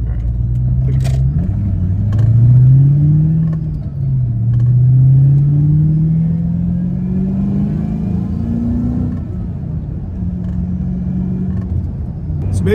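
A supercharged Ford Terminator Cobra rumbles loudly up close during a slow U-turn, its engine note rising and falling as the car creeps, blips and settles back to a lumpy idle.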